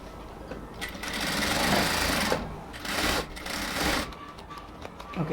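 A sewing machine stitches along the edge of a band collar on a dress, running as a steady, loud whir that shifts in pitch as it speeds up and slows, with brief pauses near the end.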